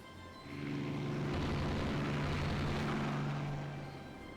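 Naval air attack in Rule The Waves 2, with aircraft droning and torpedo hits on ships, a loud continuous rumble that swells after half a second and holds steady before easing off, with steady low engine-like tones and no talk.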